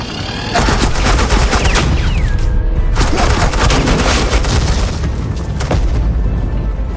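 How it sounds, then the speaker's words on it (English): Sustained suppressing gunfire from several guns, loud and dense, with overlapping bursts and booms that run nearly the whole time and barely let up. "I said suppressing fire!"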